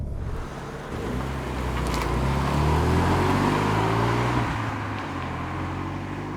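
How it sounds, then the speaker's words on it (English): A Renault Sport Megane 275 Cup-S on its standard exhaust passes or pulls away, engine note swelling to a loud peak mid-clip and then easing off, with broad road and wind noise around it. "Having a standard exhaust, this car also sounds as good as a Renault Sport Megane is ever going to."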